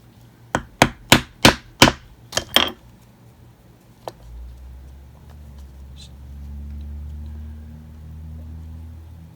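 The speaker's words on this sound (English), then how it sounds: "I really like using this little chisel tool instead of the big long one" Small chisel tool punching lace holes in leather for a black alligator and green cowhide clutch: about seven sharp, close tapping strikes in a quick run, then quiet handling and a low rumble.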